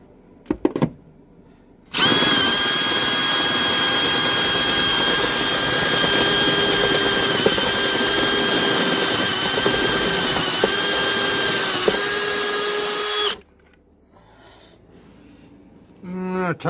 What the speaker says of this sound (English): since we got the hole drilled